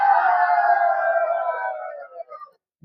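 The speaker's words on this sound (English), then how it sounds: "here's a physics teacher getting cheered on by his class" A class of students cheers on their physics teacher with one loud, sustained whooping shout that holds steady and then fades out after about two seconds.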